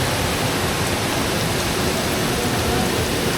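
Sudden heavy rain pours down at a waterfall campsite, a dense, loud, unbroken roar of water with no voices.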